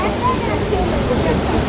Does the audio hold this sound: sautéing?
no